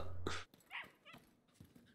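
A small female dog whimpers and yips in short, high, whiny bursts, close by, with quiet gaps between the cries.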